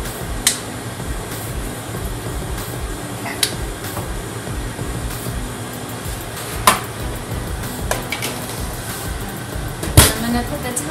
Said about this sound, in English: I think my oven's too hot, so the fan is on.